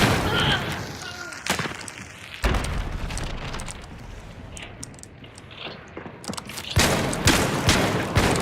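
Grenade and gunfire in a first-person shooter video game, with booming blasts and rattling bursts of fire that rise and fall, loud and close, with a heavy burst near the end.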